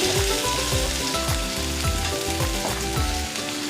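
Chopped onion frying in a pan with fennel and cumin, giving a steady, close sizzle that runs unbroken throughout, with some tonal background sound beneath it.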